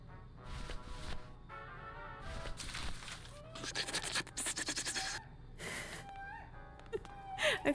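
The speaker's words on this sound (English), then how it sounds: "his snoring is so funny" A character snores in the video game Grim Fandango, drawn-out rasping breaths that come in irregular bursts over a steady background hum, with no talking.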